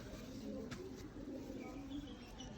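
Soft, low pigeon cooing from freshly bathed pigeons runs steadily through the clip, with a few faint chirps and light rustling noise around it.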